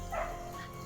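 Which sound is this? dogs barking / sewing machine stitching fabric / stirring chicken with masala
dogs barking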